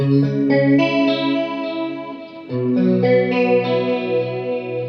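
An electric guitar playing sustained notes with a shimmering chorus effect, close and clear, with a brief dip before the next phrase rings out.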